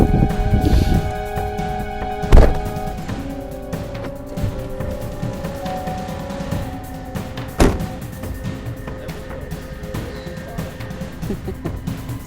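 A Pontiac Grand Prix rolls slowly up onto ramps in a garage setting, its engine humming low with a couple of sharp thumps and clunks as the wheels climb and settle.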